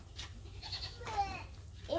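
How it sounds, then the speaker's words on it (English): Goats bleating faintly on a farm in Jamaica, a couple of short wavering calls in the distance under light background noise. "Oh, goats!"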